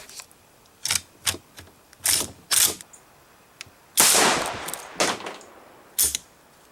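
Several AK-47 rifle shots ring out one at a time at irregular intervals, loud and close outdoors, with a longer, louder blast partway through.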